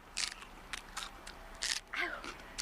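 Crisp raw cabbage, densely packed, is bitten and chewed at a market auction, giving several sharp crunchy bites in quick succession. A voice murmurs faintly underneath.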